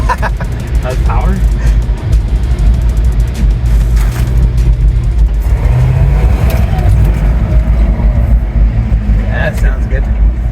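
A 1968 Ford F250 pickup's engine runs loud and steady, with a low rumbling drone and some revving, while people talk nearby.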